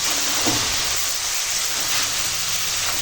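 Water added to very hot oil and spices in a wok sets off a loud, continuous broadband sizzle and hiss, close up, with no speech.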